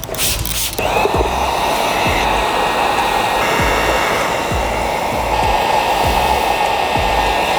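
Heat gun blowing steadily around the edges of tint film on a 2019-2024 Dodge Ram 1500 Laramie taillight, a loud, close, constant whooshing hiss starting abruptly after a brief handling noise.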